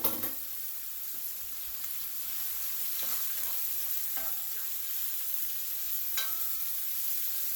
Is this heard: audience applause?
no